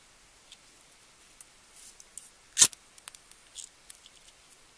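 Scissors snip through pieces of fabric for a DIY Valentine's Day onesie, giving a few faint scattered clicks and one sharper, louder cut near the middle, in a quiet room with no talk.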